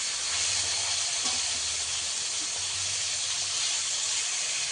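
Pieces of aar fish, skin on, frying in hot oil, a dense continuous hiss and sizzle close up with little variation, a faint low rumble beneath and no voices.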